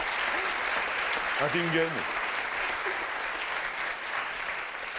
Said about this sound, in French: On est très content, bien sûr, d'applaudir Laetitia